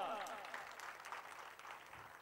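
Listeners at a public lecture clap in a faint, distant patter of scattered hands that thins out and fades over a couple of seconds.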